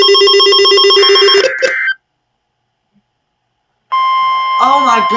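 A loud phone emergency alert tone for a flash flood warning in Payne County blares in harsh repeating bursts, cuts to silence, then resumes with a voice speaking over it.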